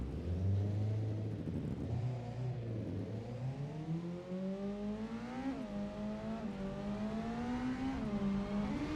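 A motorcycle engine in a video game revs continuously, pitch climbing and dipping as the throttle is eased on and off, loud and close with no talk.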